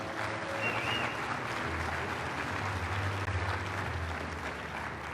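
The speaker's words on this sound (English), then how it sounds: "How about a round of applause for the Como group?" Sustained applause from a debate audience at a Texas gubernatorial debate, steady and dense for about five seconds with no voices on top.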